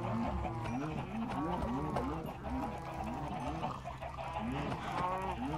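Cattle mooing in the Minecraft video game, a run of repeated low, rising moos in a steady rhythm over a constant background hum, loud and close, with no talk.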